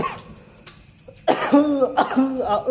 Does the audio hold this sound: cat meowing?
no